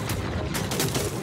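Rapid gunfire in the shooter game Crysis 3: dense, continuous bursts of shots with a booming low end, close and loud for the whole stretch, with no voices.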